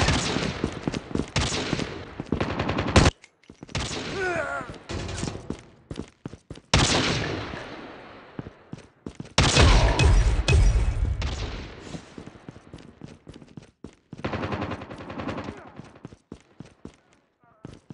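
Gunfire in Call of Duty: Mobile, rapid bursts of automatic shots in loud clusters separated by brief pauses, with game voice announcements mixed in.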